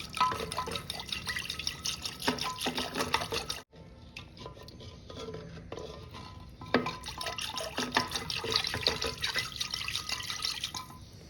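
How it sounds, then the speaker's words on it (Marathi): Curd and water churned with a wooden churner to make buttermilk: liquid sloshing and churning in a vessel, with rhythmic wet splashes and a brief pause partway through. "त्याच्यामध्ये पाणी घालून आपण व्यवस्थित रवीनी हे सर्व मिश्रण घुसळून घेणार आहोत"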